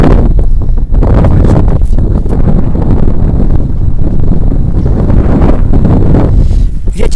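Loud, continuous wind buffeting the microphone during winter ice fishing, roaring and gusting throughout with no letup.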